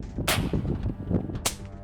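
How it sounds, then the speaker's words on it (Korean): Two sharp cracks from an air gun heard from 10 meters away, the first near the start and the second about a second later, over a busy background murmur. "10m 밖에서도 분명 총소리는 들리지만 모든 사람의 주의를 끌 만큼 큰 소리는 아닌 겁니다."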